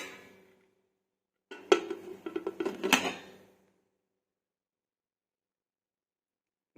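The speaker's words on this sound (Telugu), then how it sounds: "ఇప్పుడు ప్రెషర్ కుక్కర్ మూత పెట్టుకొని నేను ఆన్ చేసుకుంటున్నానండి" A metal lid goes onto a pressure cooker in a home kitchen with a short burst of clinks and scrapes: several close metallic knocks over about two seconds, then silence.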